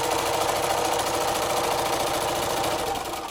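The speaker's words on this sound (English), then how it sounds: "So I'm gonna sew on one side, and then I'm gonna sew on the other side," Sewing machine running a seam on a strawberry quilt block, a loud, close, unbroken mechanical whir with fast needle chatter that eases slightly at the end.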